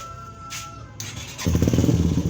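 A Yamaha XTZ125 motorcycle with a starter relay fault and a weak battery cranks with a thin whine and a click, then its single-cylinder engine catches and settles into a loud, steady, throbbing idle close by.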